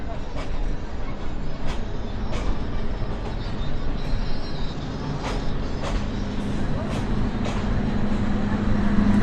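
A train halted at a station while its locomotive is changed gives a steady, heavy rumble with scattered metallic clanks and knocks, under voices that come and go.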